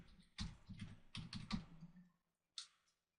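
Keys clatter on a computer keyboard as a search is typed, in quick bursts of tapping with short pauses, close and fairly quiet, ending in a single final keystroke after a gap.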